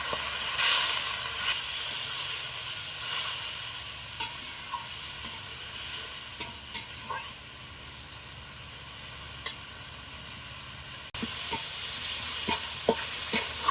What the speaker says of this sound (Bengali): অল্প একটু জল দিয়ে মশলাটা আমি ভালোভাবে কষে নেবো